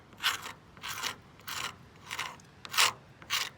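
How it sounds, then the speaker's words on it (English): A basic hand scraper rasps stripped paint off a K6 BT red telephone box in six evenly spaced scraping strokes, each a short gritty scrape, close up and fairly quiet, with no voices. "the basic scraper is the one I'm going to do first"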